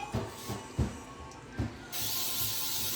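Cooking spray hisses onto a cast iron pan in a home kitchen: a few soft knocks and handling sounds, then a loud, steady, continuous hiss for the final second.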